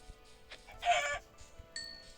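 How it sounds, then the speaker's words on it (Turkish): A single Minecraft chicken clucks briefly over a quiet hum, with a faint electronic tone afterward. "Tavuk."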